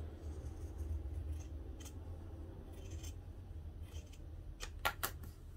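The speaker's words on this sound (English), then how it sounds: "So I'm just going to go ahead and cut that." Scissors cutting a fabric piece for a sewing pouch, a few faint snips and crisp closing clicks spaced irregularly over a low room hum, growing sharper toward the end.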